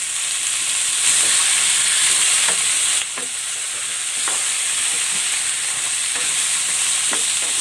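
Pieces of pork fry with onions in a hot pan, giving a loud, steady, close sizzle and hiss broken by occasional scraping stirs.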